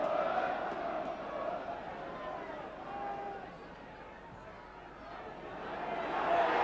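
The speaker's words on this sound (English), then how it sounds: "Applause ringing round Craven Cottage" Football crowd at Craven Cottage during Fulham v Spurs in the FA Cup third round, a steady, fairly distant roar and murmur of many voices that swells slightly toward the end.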